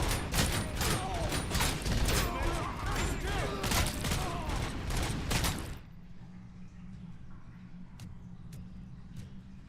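Automated turrets in the video game Robocop: Rogue City pour out dense, fast mechanical gunfire for about six seconds, then cut off abruptly, leaving a low hum and a few faint clicks.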